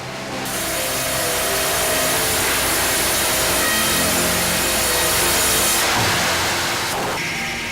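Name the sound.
sawing wood trunk lengthwise for organ building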